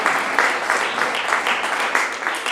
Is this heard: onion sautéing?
no